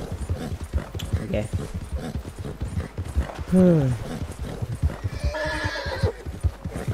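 A horse in the Red Dead Online video game, hooves clip-clopping in a steady beat before a loud whinny and a second neigh, while someone speaks briefly over it.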